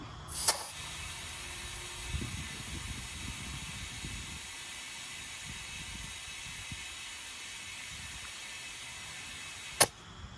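A portable air tank inflates an overland vehicle's tire outdoors with a steady, even hiss that runs the whole time, opened and closed by sharp valve clicks near the start and end.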